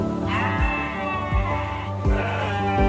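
Goats bleat repeatedly on a pesantren livestock farm, with several loud, close, wavering cries in quick succession over a constant background hum and no speech.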